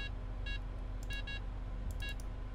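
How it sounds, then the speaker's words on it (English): Short electronic beeps in the stealth video game Of Guards and Thieves, sounding in quick clusters of two or three pulses over a steady low hum, repeating through the stretch. "That beeping is quite annoying."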